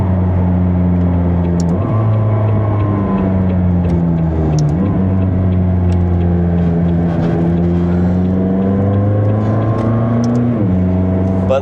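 A McLaren 600LT Spider's engine drones loud and steady, its pitch climbing and then dropping sharply at each quick gearshift, several shifts in a row.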